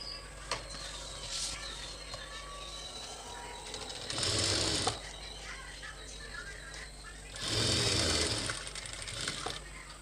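A sewing machine stitches lining onto a handmade natural jute bag, two loud whirring bursts of several seconds each rising over a quiet, steady background hum.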